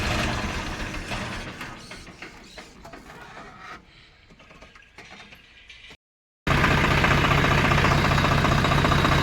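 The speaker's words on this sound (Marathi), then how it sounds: "आता आपण हे ट्रॅक्टर बंद करणार आहोत" A farm tractor loaded with harvested pigeon peas chugs and rattles as it is switched off, its mechanical noise fading down and cutting to silence before a loud, steady noise abruptly starts.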